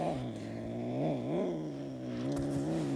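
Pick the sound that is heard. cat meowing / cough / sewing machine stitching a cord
cat meowing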